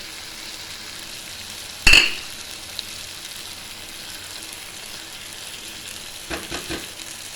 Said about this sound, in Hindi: अब हम इसमें ये जो टमाटर हमने किए थे वो डालते हैं, टमाटर लहसुन का पेस्ट।